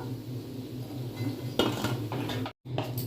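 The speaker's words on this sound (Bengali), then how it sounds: "এবার তুলে নেব, তুলে নিচ্ছি বড়াগুলোকে" Drumstick flower fritters being lifted from a pan of hot oil, with a steady low hum of frying and a few metallic scrapes and clinks of a spatula against the pan, broken by a brief silence near the end.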